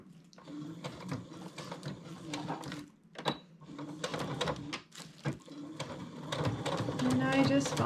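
Sewing machine running a 3.0 stitch length through pleather while quilting lines, a steady mechanical whirr in repeated bursts with short pauses, close by, with someone talking over it.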